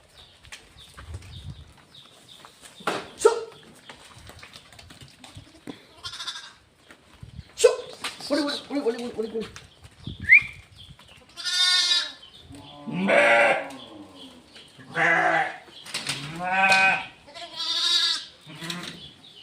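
Narisuvarna sheep, including a white one, bleat repeatedly on a farm, giving a run of loud, close, wavering calls in the second half after a quieter stretch with scattered faint sounds.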